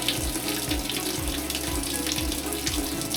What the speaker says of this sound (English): You can hear it start, and it does that